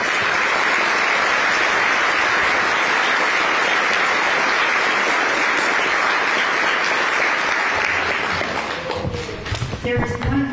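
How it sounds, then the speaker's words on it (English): An audience at a chamber of commerce event gives sustained, dense applause from many hands. It stays loud and even, then thins into scattered claps and a few thumps near the end. "Now, please give them all a big round of applause."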